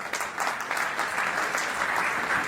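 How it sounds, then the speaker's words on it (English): Audience at a healthcare conference applauding as a chairperson from Punjabi University, Patiala, comes on stage; steady, dense clapping from a crowd fills the room at even loudness throughout. "please give him a huge round of applause"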